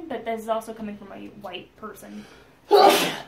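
A single sharp sneeze bursts out loudly near the end, right after a person speaks in an interview setting.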